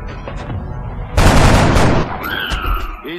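A loud burst of gunfire from the turn-based strategy game X-COM cracks out for under a second, then fades into lighter game effects and tones, with a voice speaking faintly before it.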